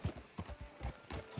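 Horse hooves clip-clop in a steady walking rhythm in Red Dead Redemption 2, soft, close and evenly paced with no talking over them.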